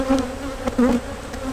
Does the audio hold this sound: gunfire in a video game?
no